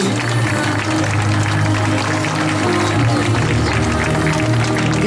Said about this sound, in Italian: giratevi e ricevete questo grande applauso tutto per voi